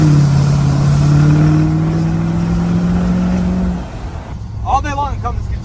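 A 2019 L5P Duramax diesel pickup fitted with a Spelab exhaust and EGR delete pulls away loudly, its engine drone rising and holding, then fading as a voice cuts in near the end.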